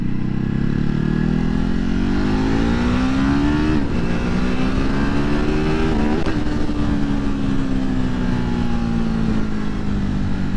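A 2020 Ducati Hypermotard 950 SP motorcycle with 114 horsepower accelerates hard. Its loud, continuous engine note climbs in pitch, with brief drops at gear shifts, and no voices are heard.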